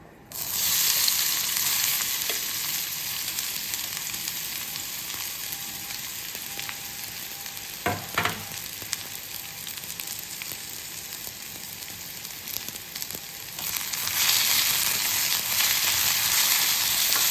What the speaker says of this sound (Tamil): இரும்பு கடாய் போட்டிருக்கேன். எண்ணெய் விட்டுக்கலாம். நம்ம இப்போ உருளைக்கிழங்கு ஃப்ரை தான் பார்க்க போகிறோம்.